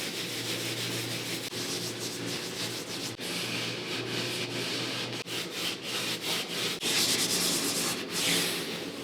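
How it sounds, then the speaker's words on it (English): Beeswax being buffed off a large live-edge wooden charcuterie board with a rag: a steady, close, continuous rubbing and swishing that holds loud and even throughout with slight rhythmic strokes, and no one speaking. "I'm going to buff all the wax off the entire board"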